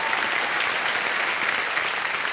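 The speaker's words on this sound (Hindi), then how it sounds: "तालियां बज जाए इनके लिए" Studio audience applause on a Kaun Banega Crorepati Season 15 quiz show set, a dense, steady wash of clapping from a large crowd that holds at an even level for about two seconds, with no voices over it.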